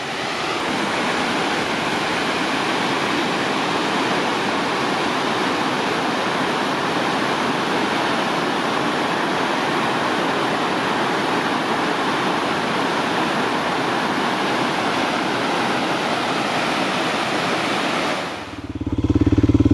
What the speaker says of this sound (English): we had a pretty good look at the dam there. There's quite a bit of water coming over that.